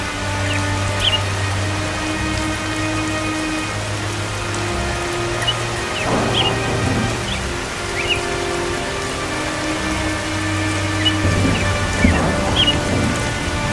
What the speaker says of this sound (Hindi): पंखों में बारिश की बूंदों की चोटें लगती हैं।